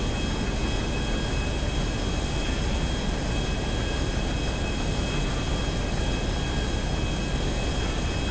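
Steady broadband roar of an airplane in flight in GTA5, a constant loud engine and wind drone with no gaps, alone without talk.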